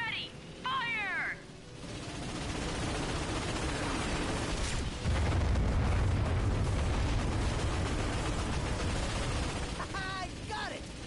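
A deep, booming ion cannon blast in Ratchet and Clank (PS4) builds into a sustained roaring rumble, loud and close, with short high-pitched electronic chirps at the start and end.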